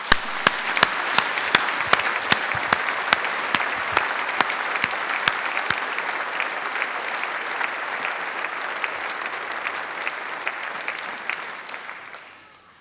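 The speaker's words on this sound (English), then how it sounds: "we and you should take this opportunity to applaud them" Graduation-ceremony audience at the University of Manchester applauding the new graduates, sustained clapping from a large hall crowd with a few sharp individual claps standing out early, tapering off near the end.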